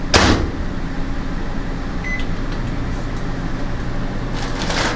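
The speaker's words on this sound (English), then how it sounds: "Pop this one in the microwave." A kitchen microwave oven hums steadily after its door shuts with a clunk, running alone at moderate volume for several seconds before another click near the end.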